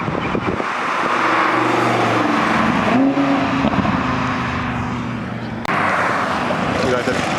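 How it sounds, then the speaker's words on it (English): An Audi R8 facelift sports car drives past close by with a loud, sustained engine roar that swells and then fades. Voices can be heard over the engine. "Alright, we got the R8 facelift coming through"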